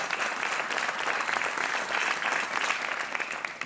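Studio audience applause on the Portuguese TV game show Joker, a continuous, even wash of many hands clapping, steady and fairly distant, tapering slightly at the end.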